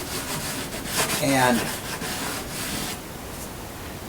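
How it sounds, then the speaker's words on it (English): Light sanding on the wood of a 1956 Kay Aristocrat archtop guitar, a few close scratchy rubbing strokes with a brief spoken word at the start. "we are getting close on this little light sanding that we're doing."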